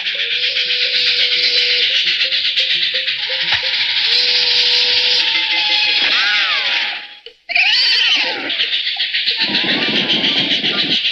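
Wood-fired steam locomotive in a 1973 animated series, hissing loudly and steadily with a broad rushing roar and faint rhythmic rail clatter, cut off by a brief sudden dropout before resuming, with high whistling tones.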